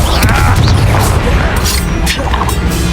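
Confringo explosions burst in Hogwarts Legacy combat, several sharp booming crashes in quick succession over a thick low rumble, with a voice shouting spell names.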